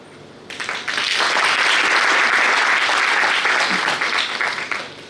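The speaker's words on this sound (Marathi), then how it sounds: "टाळ्या वाजतायत म्हणजे जागेच सगळे" At a medical workshop on ozone anaesthesia in Aurangabad, an audience breaks into loud, dense applause that swells quickly, holds steady for several seconds and then fades.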